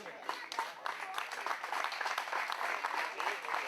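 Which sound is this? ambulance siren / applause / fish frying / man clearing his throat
applause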